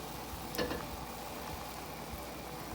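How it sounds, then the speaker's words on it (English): A faint, steady sizzle rises from frozen shrimp frying in a pan for ramen, with a brief splash as they hit the hot surface. "we shall add a frozen shrimp, 2 frozen shrimp"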